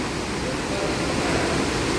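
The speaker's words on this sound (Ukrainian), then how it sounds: "Вмикають е, морські хвилі." Artificial sea waves switched on in a spa pool at Grand Spa Druskininkai, heard as a dense, steady rush of churning water that fills the space, with no voices.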